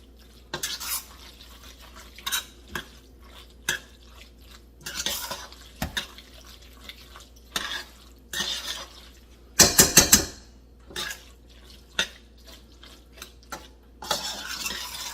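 A metal spoon scrapes and clinks against a metal pot of stovetop mac and cheese, sounding as a series of sharp, close scrapes and taps spread through the stretch, with a loud cluster of rapid clatter near the middle.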